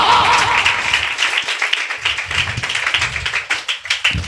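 A church congregation at a Sunday service claps, the sound starting as a full burst and thinning into uneven, rhythmic hand claps that fade toward the end.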